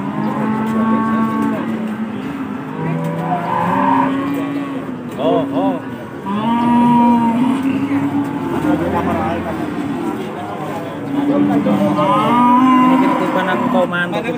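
Cattle at the Pon Blora livestock market moo repeatedly, several long, loud lowing calls in succession, with market bustle and people talking in the background.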